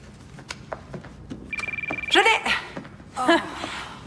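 A telephone rings in a rapid, pulsing electronic trill for about half a second, followed by a couple of short vocal bursts nearby.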